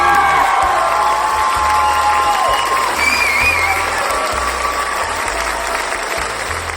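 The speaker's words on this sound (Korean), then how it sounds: "박수!" Audience applause and cheering as a youth culture center director is welcomed onto a talk broadcast, loud and sustained crowd clapping with whoops and a few children's shouts, tapering slightly toward the end.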